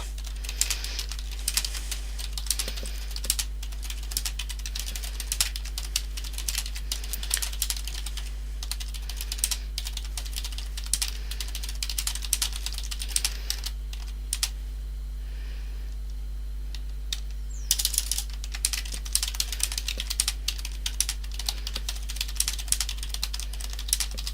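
Steady typing on a computer keyboard while entering a few sentences of text, with rapid clustered clicks pausing briefly midway before resuming, close and fairly quiet over a low steady hum.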